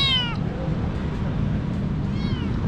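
A stray cat meows twice on a city street in Makati, Philippines, the cries close and clear over steady traffic rumble, with a pause between them.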